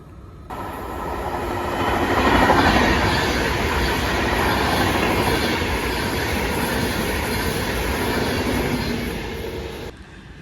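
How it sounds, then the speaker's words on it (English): An Avanti West Coast Class 805 passenger train rumbles steadily out of Stafford station, wheels clacking and faintly squealing, loud and continuous before cutting off at the end. "So we are going to catch this train leaving"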